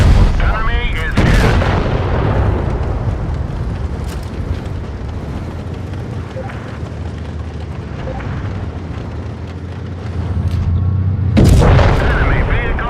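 A tank's main gun fires in a video game, with a deep booming blast at the start and another near the end over a continuous low engine rumble, while a voice talks.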